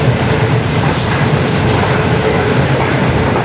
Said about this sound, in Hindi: बड़ी ज़बरदस्त स्पीड के साथ दौड़ लगा रही है दोस्तों 28 डाउन शालीमार एक्सप्रेस